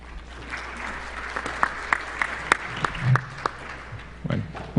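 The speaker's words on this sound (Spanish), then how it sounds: "al cual pido un aplauso" A conference audience at a LACNIC meeting breaks into applause: scattered, fairly sparse claps sound nearby, rising briefly and then thinning out.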